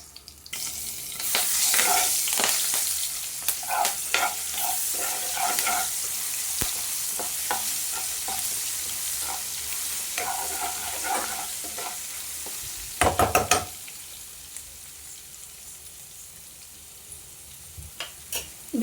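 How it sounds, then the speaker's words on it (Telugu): Garlic chili powder fries in a pan with a steady close sizzle, broken by repeated spatula scraping and stirring, then a few louder clatters near the end. "ఇది కూడా వేసుకొని ఫ్రై చేసేసుకోవడమే."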